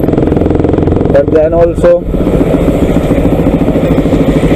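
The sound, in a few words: Pulsar 200 NS motorcycle aftermarket exhaust without dB killer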